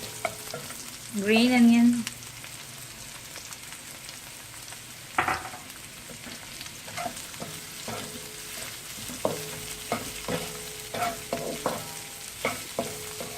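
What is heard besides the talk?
stir-frying Mongolian chicken with green onion in a pan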